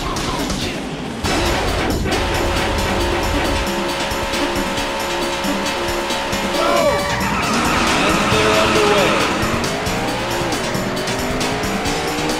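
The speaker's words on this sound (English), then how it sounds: "Gentlemen, start your engine." Race cars in the Daytona USA arcade racing game roar to life and pull away, loud engine revs rising in pitch with tire squeal and skidding over continuous motor drone.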